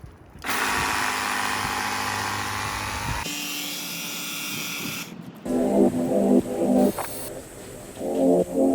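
Ryobi RY18PW22A 18V battery pressure washer spraying, a steady motor whine with hissing water that shifts pitch and stops briefly before resuming with water splashing on a surface, close and without talking.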